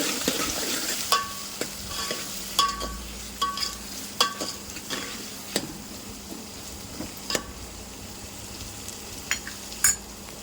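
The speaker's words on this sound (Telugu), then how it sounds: "మనం పేస్ట్ చేసి పెట్టుకున్నాం కదా ఆ పేస్ట్ని కూడా ఇందులో వేసేసుకోవాలి" Ground paste frying in a pan for Muslim-style dalcha, with a soft continuous sizzle broken by regular spoon taps and scrapes as it is stirred, close up.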